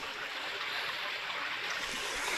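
A mountain stream flows beside a hiking trail on the Litalit Trail, making a steady, close, broadband rushing hiss that holds even throughout with no pauses.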